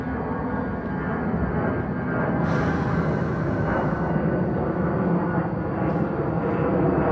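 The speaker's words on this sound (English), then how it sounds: "Let that plane pass." An airplane passes overhead as a steady, rising roar that builds, swells, and lingers beneath a continuous background rumble, with no talking over it.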